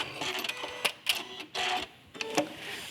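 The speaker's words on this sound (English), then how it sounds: "I'm guiding the fabric through the machine" A sewing machine fitted with a walking foot stitches quilt fabric, giving bursts of mechanical whirring and clicking that start and stop unevenly. The sound is close and moderately loud, with no voices.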